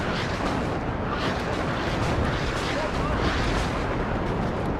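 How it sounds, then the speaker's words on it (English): Dense, continuous rumbling barrage from a LARS rocket artillery strike in the video game WARNO, a steady roar of overlapping explosions without clear gaps, heavy and loud throughout. "there's my Lars rocket artillery coming down"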